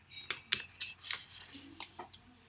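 Pull tab being peeled off an iPad Pro 5th generation box, giving a few sharp crackling tears and scratchy rips close up, alone with no talk.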